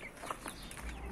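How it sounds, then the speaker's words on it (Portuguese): Backyard chickens clucking softly in their coop, short scattered calls close by over a steady low rural background, with no talking. "Aí tá as galinhas lá."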